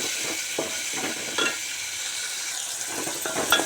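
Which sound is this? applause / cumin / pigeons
cumin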